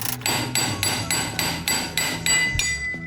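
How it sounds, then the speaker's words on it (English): A hammer strikes a metal chisel against a stuck car brake drum in a steady rhythm, about ten sharp ringing taps, close and loud with no talking. "with some tapping with a chisel and a hammer, I was able to get it to come loose"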